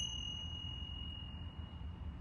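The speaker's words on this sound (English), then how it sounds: "For example, my Om bells," Om bells tuned to the Om tone ring out in one steady, sustained shimmer, a clear pure tone with a higher overtone holding across the whole stretch with no voices.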